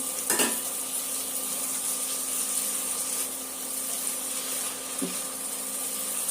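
Fish goes into a hot pan of cooking vegetables and spices, giving a soft, steady sizzle with a couple of brief clinks of utensils against the pan, fairly quiet and without talk.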